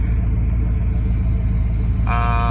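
A 2005 Jeep LJ fitted with a Camaro L99 LS V8 and 6L80 transmission rumbles steadily at close range, with a sharper rising whine from the engine catching near the end, no voices present.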